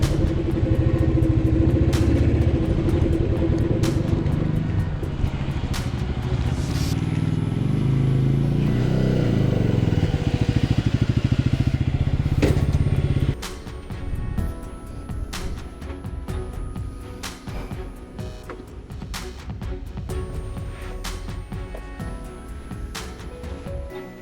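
A motorcycle coasts downhill in neutral on a ride from Chennai to Yelagiri. A steady, loud rush of wind and engine rumble fills the first half, then drops to a quieter, rattling hum.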